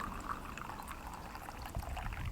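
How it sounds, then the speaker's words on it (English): Tea pours into a cup in a steady, close trickling stream that runs unbroken for a couple of seconds, with no voices. "may I pour my little cup of tea."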